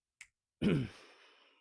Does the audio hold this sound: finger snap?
yes